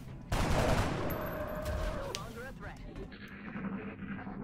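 Gunfire erupts in the strategy video game XCOM: Enemy Within, a loud sustained burst of automatic shots that fades into lingering battle effects while someone talks over it.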